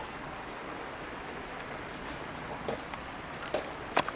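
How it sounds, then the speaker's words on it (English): Rain leaks through a garage roof, making a soft continuous patter with scattered sharper drips landing nearby, quiet overall with a few louder drops toward the end. "the rain's just pissing through this garage roof"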